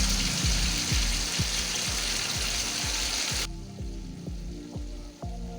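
Cinnamon sticks and cumin seeds sizzle in hot oil, a steady broadband frying hiss with regular soft knocks, loud and close, the hiss dropping off sharply partway while low bubbling continues.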